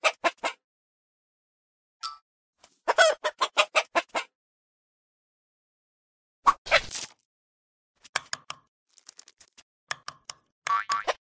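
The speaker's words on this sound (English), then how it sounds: "The chicken goes cluck cluck." A chicken clucks in short rapid bursts, pausing between runs, with a louder squawk partway through.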